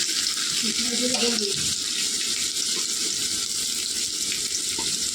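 Onion dropped into a hot pan fries with a steady, close hiss and sizzle that continues throughout, with a brief faint voice near the start.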